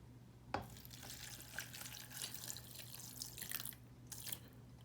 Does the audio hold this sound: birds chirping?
no